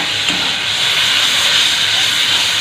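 Water splashed into frying spices in a pan for a simple home-cooked dish, giving a steady, loud hissing sizzle that holds for the whole moment with no talking.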